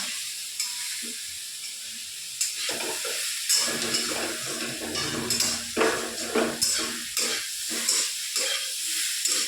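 Soybean chunks fry with ginger-garlic paste in a pan, giving a continuous hissing sizzle broken by irregular clinks and scrapes of a utensil against the pan.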